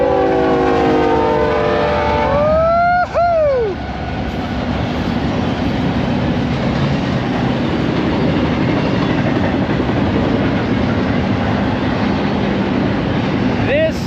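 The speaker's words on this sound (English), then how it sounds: "If you're camped here, you are going to hear this train." A freight train rolls past a campsite in the Glamis dunes, its horn blaring in loud falling blasts near the start, followed by a steady heavy rumble of passing cars that continues to the end, with a brief horn note at the close.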